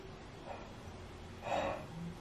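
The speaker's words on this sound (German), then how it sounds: "Da muss ich gähnen." A single tired yawn, heard as a soft breathy inhale that swells into a louder drawn-out exhale before fading, faint and close with no talking.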